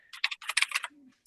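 Someone types on a computer keyboard during a city hearing held as a remote call, producing quick clustered bursts of key clicks, fairly close and clear, followed by a short low hum.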